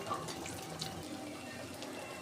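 Fish milt and eggs frying in oil in a pan while being stirred, giving a steady close sizzling hiss with faint crackles throughout and no voices.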